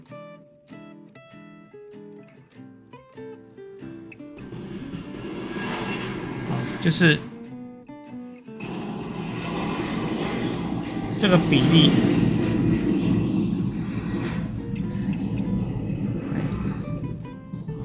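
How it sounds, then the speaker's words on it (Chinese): An airplane taking off or landing at a nearby airport roars steadily under close indoor speech, swelling louder in the second half as the engine noise builds. "老师家刚好是在机场旁边，所以都有飞机起降的声音。"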